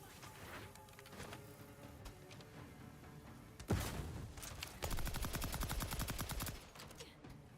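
Gunfire in the sci-fi shooter Outer Worlds 2: a heavy thud, then a sustained burst of rapid automatic shots, all faint and distant, with a game soundscape underneath and no talk.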